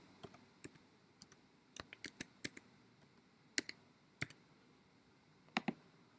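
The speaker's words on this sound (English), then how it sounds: "Let me type again." Sparse, quiet clicks of a computer keyboard as a password is typed on a Mac, irregular keystrokes scattered over several seconds with small clustered bursts against faint background hiss.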